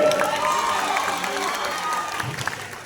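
An audience at a felicitation program in Berhampur breaks into loud, sustained applause with cheering and shouts, a dense crowd roar that fills the whole stretch.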